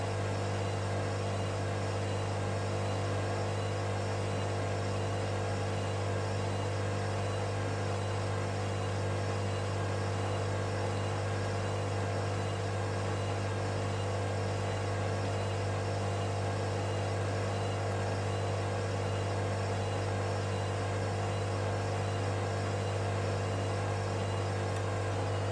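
A Hoover DXOC58AC3 washing machine on a 90-degree whites prewash with bathmats and towels, running as a steady, unbroken motor hum with constant broadband noise throughout, no talking.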